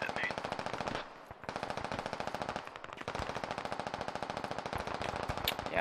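Sustained rapid machine gun fire in a multiplayer squad shooter video game, loud and continuous automatic bursts with a brief pause, filling the whole stretch.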